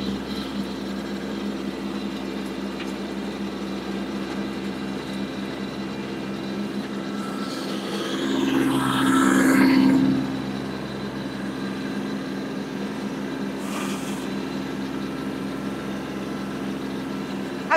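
A snowblower engine drones steadily and loudly throughout, with a brief swell and a couple of higher whooshing bursts partway through, no talking.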